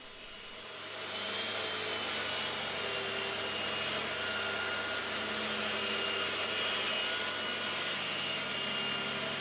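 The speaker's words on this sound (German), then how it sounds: "Jetzt säge ich mir zwei Leisten mit einer 45 Grad Schräge zurecht." A power saw cuts wooden strips at a 45-degree bevel for a solid-wood nightstand, starting after a brief quiet moment and then running as a loud, steady, continuous whine for the rest of the clip, with no talking.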